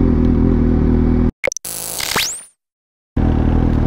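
A motorcycle engine blips and revs during rev-matched downshifts, a rumbling idle broken by sharp throttle bursts and a rising rev sweep, then a brief cut before the engine noise resumes, loud and close.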